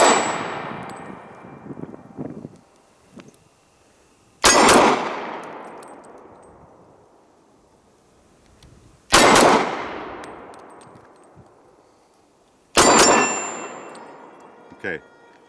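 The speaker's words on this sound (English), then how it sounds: "Anyway, let's shoot it some more." Three loud, sharp gunshots from a Glock 22 Gen 4 pistol fitted with a BT guide rod, spaced several seconds apart, each ringing out and fading slowly, with faint handling noises in between.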